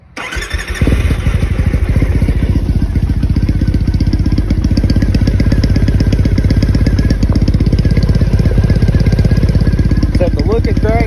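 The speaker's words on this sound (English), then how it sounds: "let's see if we can give it that initial start" Triumph Thruxton 900 motorcycle fitted with a Bassani exhaust, baffles in, firing up after a short crank and settling into a loud, steady, throbbing idle close by, with a brief revving blip near the end.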